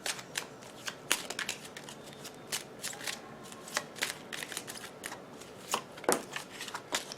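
A deck of tarot cards is shuffled by hand, producing repeated soft riffling and slapping bursts at an irregular rhythm, close but quiet, with no voice.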